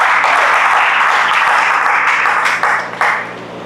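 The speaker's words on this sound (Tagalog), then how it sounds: "Isang malakas sa palakpak para sa Panginoon." Church congregation applauding together in a dense, loud wash of clapping that swells and then trails off toward the end.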